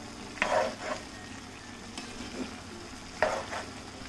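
Spice powders being stirred through chicken for a Kerala chicken thoran in a fast-heating pan: a few soft scraping stirs over a quiet, steady sizzle, with two distinct bursts of stirring.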